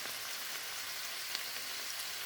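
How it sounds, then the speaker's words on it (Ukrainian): Chanterelle mushrooms, scalded beforehand, fry in a pan with a steady, dense sizzle and faint crackling pops, close and constant throughout. "І тепер їх смажу."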